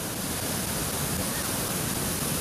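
A New Zealand creek rushes past in a steady, loud, broadband wash of flowing water, continuous and unbroken, with no voices.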